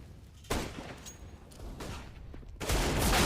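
Gunfire in a competitive shooter video game during a Swedish league semi-final: bursts of rapid shots come in three clusters, fairly loud against a quieter background.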